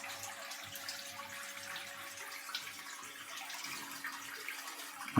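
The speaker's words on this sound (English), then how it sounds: "We'll just go and purge it out through the kitchen tap." Water runs from a kitchen tap to purge air from a heating system after a boiler service, a steady faint hiss and gush with a low hum beneath, ending in a sudden louder burst.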